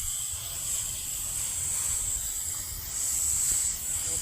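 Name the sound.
garden hose spraying water on mist setting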